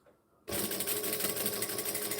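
A sewing machine stitches up a fabric pouch, starting abruptly after a near-silent half second and then running as a steady, loud, close mechanical whir to the end.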